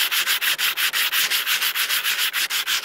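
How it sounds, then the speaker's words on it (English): Fast, steady back-and-forth sanding strokes on a rust repair on a van, a rough scratchy rasp repeating several times a second, close and loud with no voices. "So, I'll start sanding."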